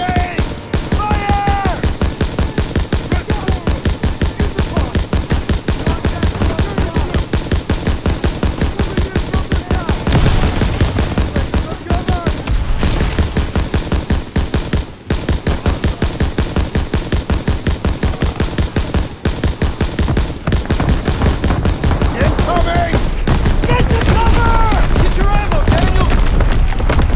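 Call of Duty WWII gunfire, relentless rapid machine gun and rifle fire with occasional booms, dense and loud throughout, with shouted voices mixed into the battle.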